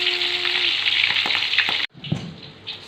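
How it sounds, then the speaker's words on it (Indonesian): Chicken sizzles and crackles steadily frying in hot oil in a pan, then the sizzling cuts off abruptly and only faint clatter and low sizzle remain. "Sambil nunggu goreng ayam selesai"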